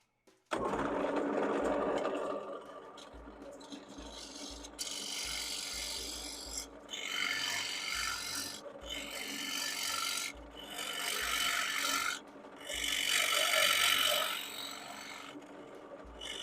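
A 3/8 inch spindle gouge cutting hard wood on a spinning lathe, a loud rasping scrape in repeated strokes broken by brief pauses, with a steady motor hum underneath.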